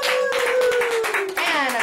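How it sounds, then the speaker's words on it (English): A group gives itself a round of applause, brisk clapping from several people with a gliding tonal sound running through it. "Give yourselves a round of applause."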